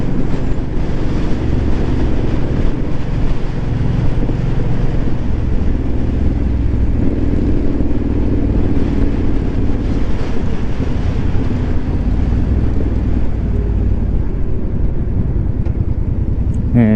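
A Kawasaki Boulevard motorcycle engine while riding, a steady low rumble droning throughout with wind buffeting, no distinct revs standing out.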